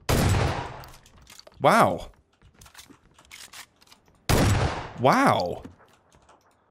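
Gunfire in the video game PUBG Battlegrounds, two loud sharp bursts a few seconds apart, each followed by a voice exclaiming, with quieter game sounds in between.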